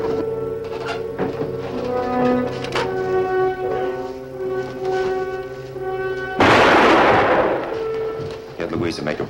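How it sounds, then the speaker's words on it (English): Gunfire in a western TV episode, a loud burst of shots standing out over the music and sound effects around the six-second mark. "Please tell me why those men are shooting."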